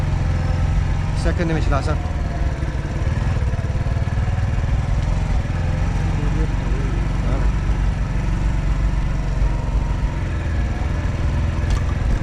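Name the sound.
motorbike riding through a village in Pakistan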